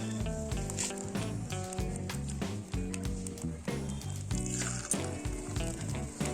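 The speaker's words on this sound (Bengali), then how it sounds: "পকোড়াগুলো এবার ছেড়ে দিই" Cauliflower pakoras in gram-flour batter sizzling in hot oil, a dense bright crackle running alongside a steady tonal background hum.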